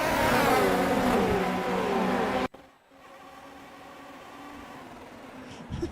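A Formula 3 race car at Monza revs hard and loud for a couple of seconds, then cuts out abruptly, leaving a quieter, steady engine drone.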